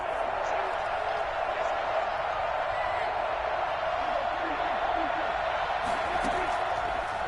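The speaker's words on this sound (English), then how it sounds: "the crowd getting into it as we come up on a big 3rd down" A stadium crowd in Madden 21 keeps up a steady, loud roar ahead of a big third down, a dense continuous wash of cheering with faint thuds mixed in.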